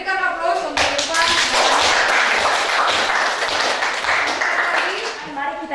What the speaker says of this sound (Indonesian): berikan aplaus untuk Irfan